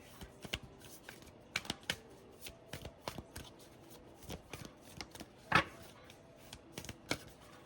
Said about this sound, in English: I'm feeling like I need to shuffle